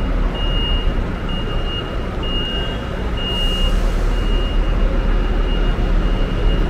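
A Viação 1001 bus pulls out of the Novo Rio bus station in Rio de Janeiro. A steady engine and traffic rumble fills the scene, with a faint beep repeating in the background.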